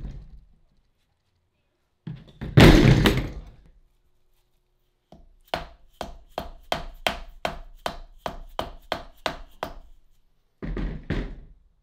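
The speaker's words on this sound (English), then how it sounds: "So I'm just gonna try hitting it from this side, see if we can get it over." A bearing part is being hammered onto a CV axle during a boot replacement. After an isolated blow and a longer scraping clatter, a rapid run of about a dozen sharp metallic strikes follows, then a final burst, all close and loud.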